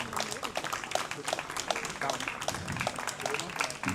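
Crowd applause after a flamenco performance at a chess festival in Sitges, a dense, steady clapping that carries through all four seconds with a voice speaking over it.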